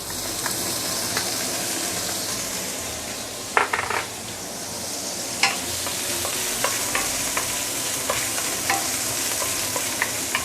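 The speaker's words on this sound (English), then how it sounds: "what I'm doing here is I'm trying to infuse the oil with garlic and also ginger" Garlic and ginger fry steadily in oil in a clay pot, a continuous sizzle with light scrapes and occasional clinks of a utensil against the pot, close and alone with no talk.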